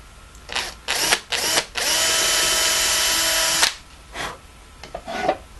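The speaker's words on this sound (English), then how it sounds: "drill a hole through here with a 1/16 of an inch drill bit" A power drill with a 1/16-inch bit whirs in a few short bursts, then runs steadily for about two seconds as it bores a small hole through wood, followed by brief spins.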